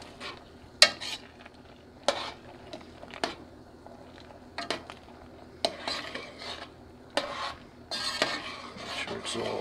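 Spoon scraping and clinking in a pot while ReadyWise stroganoff is stirred: irregular bursts of metal-on-metal scrapes and knocks over a soft sizzle, close and fairly loud, with no talking.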